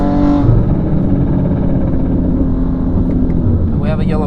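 Engine and intake roar of a 700 horsepower BMW M2 on a race track, a steady loud drone throughout with a voice talking over it and a rising rev near the end.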